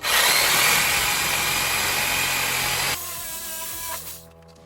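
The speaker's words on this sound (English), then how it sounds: "I'm going to use my good old Sawzall to get this off" A Sawzall reciprocating saw cuts through elk meat in a loud, steady, close-up buzz that runs for about three seconds, then drops away into quieter handling sounds as the blade stops.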